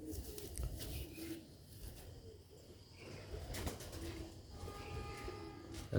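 Rooftop pigeons give soft, repeated low coos amid a steady murmur of background noise, with faint wing flutters and a few scattered chirps.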